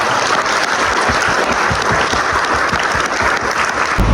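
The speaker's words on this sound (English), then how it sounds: "So maybe just a quick thanks and a round of applause." Dense, sustained applause from an audience at a self-improvement event in Donegal, loud and even throughout with no talking over it.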